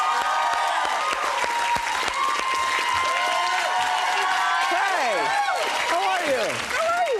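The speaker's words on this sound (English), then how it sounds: "Guys, thank you for cheering for me." A studio audience at an American Idol taping cheers and applauds loudly and continuously, a dense wash of clapping with whoops and shouts rising over it, while people speak over the noise.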